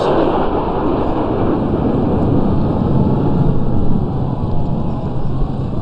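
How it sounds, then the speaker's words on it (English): Three Su-30 MKI fighter jets of No. 31 Squadron pass over a Republic Day parade in India, a dense, thunderous jet roar that stays loud and constant throughout. "3 state-of-the-art Su-30 MKI aircraft of number 31 Squadron."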